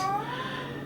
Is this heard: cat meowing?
yes